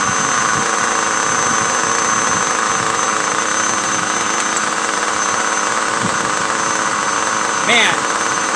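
A nitro-fuelled R5R engine fires up on the first try and settles into a steady, loud idle, its continuous buzzing drone close and unbroken, with a brief higher chirp near the end.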